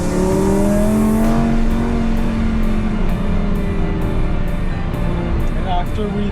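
A Lamborghini accelerating hard on a race track, its engine a steady loud roar with rising and shifting tones heard from inside the car, while people talk over it.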